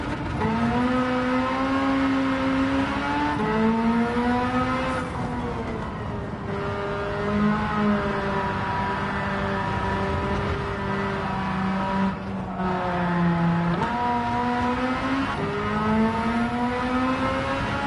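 Mazda RX-8 rotary engine in Gran Turismo 7 revving hard through repeated gear changes, a loud, buzzy, continuous whine that climbs, drops at each shift and climbs again.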